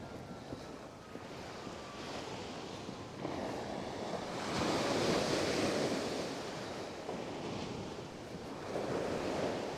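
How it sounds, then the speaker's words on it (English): Ocean waves roll onto Coney Island beach in Brooklyn during a snowstorm, a continuous roar that swells louder midway as surf breaks, mixed with wind noise against the microphone and no speech. "Sound of the water is nice"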